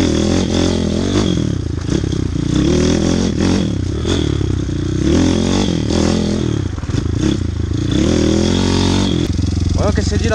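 A small 160 YX motorcycle engine revs repeatedly nearby, rising and falling with some clattery, scraping mechanical noise while people talk over it.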